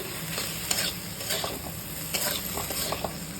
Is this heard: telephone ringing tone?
no